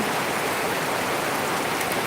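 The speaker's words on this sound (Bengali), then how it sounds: "এই সময় বৃষ্টি হচ্ছে" Steady rain falls at night in Rajeshwarpur, Hailakandi district, Assam, a close, even hiss of drops on surfaces with no pauses or voices.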